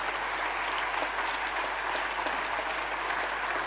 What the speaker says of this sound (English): Can we give a hand of applause?